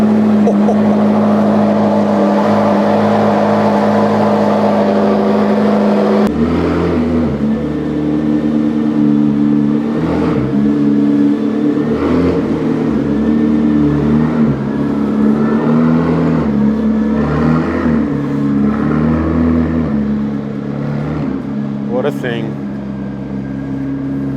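A car engine idles loudly and is revved in repeated surges in a courtyard of a Tokyo garage home, with rising and falling engine pitch and a sharp high whine near the end.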